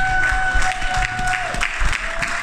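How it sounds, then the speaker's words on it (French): A church congregation claps and cheers together, a steady wash of applause with scattered shouts, while a voice speaks and a sustained musical tone runs underneath. "Est-ce que tu peux acclamer pour toi-même?"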